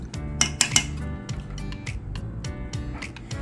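A spoon scraping and clinking against a metal pot while sugar is stirred into a creamy maja blanca coconut mixture, with a few bright clanks early and a steady clatter of stirring throughout.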